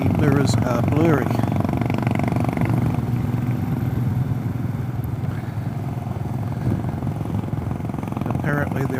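A Royal Enfield 500 motorcycle engine runs with a steady, vibrating drone throughout while someone talks over it.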